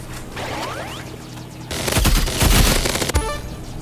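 Minigun gunfire in the Roblox Rivals game, loud rapid bursts of sustained automatic shots that begin partway through after quieter game sounds.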